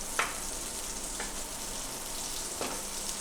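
Raw banana slices frying in hot oil for vazhakkai varuval give a steady broadband sizzle with a few brief crackling pops, close and even throughout, with no talking.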